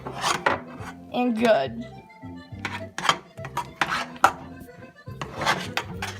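A utensil scrapes and stirs mashed potatoes with cream cheese in a warm pot on the stove, giving close, irregular rasping strokes and knocks against the pot, with a brief voice in between.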